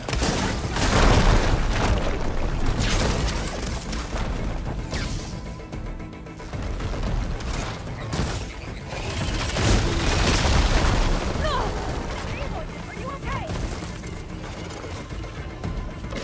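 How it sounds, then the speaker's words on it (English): Rocket blasts from a hostile machine in Horizon Forbidden West, a continuous barrage of loud booms, crashes and mechanical clatter with layered explosions rolling on throughout, no pauses. "Those are rockets."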